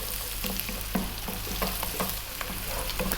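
Garlic and a cup of onion fry on high heat, a dense steady sizzle close by with regular scraping and tapping of a spatula stirring through the pan, no speech.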